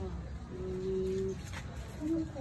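A dove gives soft, low coos, one longer call and then a shorter one, over faint background noise.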